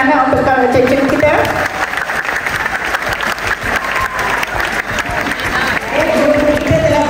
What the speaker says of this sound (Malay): Tepuk tangan anak untuk cikgu kita.